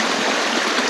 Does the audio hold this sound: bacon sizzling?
no